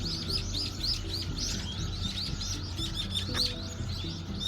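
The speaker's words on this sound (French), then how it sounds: "Je sais pas si vous entendez, mais il y a énormément d'oiseaux." Many birds chirp and tweet in dense, overlapping calls from a tree in a Seoul park, a lively continuous chorus of bright repeated notes over a low background hum, with no talking.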